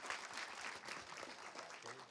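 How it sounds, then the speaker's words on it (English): Brief audience applause at a business agility conference closing, a quiet patter of clapping held steady for about two seconds. "A quick round of applause for Business Map"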